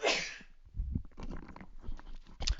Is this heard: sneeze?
yes